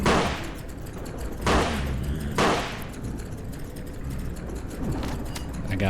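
Gunshots from an indie video game in development, a few sharp blasts spaced about a second apart, each with a short decaying tail, over a steady low background rumble.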